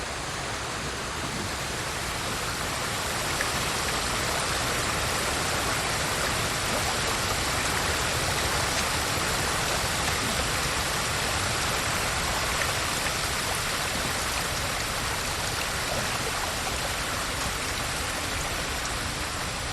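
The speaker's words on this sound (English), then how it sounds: "the water is very, very loud in my ear" Steady, loud rushing water from a stream or waterfall in the Ghost of Tsushima video game, a dense continuous wash that holds unbroken from start to finish with no voices over it.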